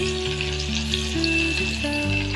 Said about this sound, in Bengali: এবার ওই তেলে একটা মাঝারি সাইজের পেঁয়াজ কুচি দিয়ে দিলাম।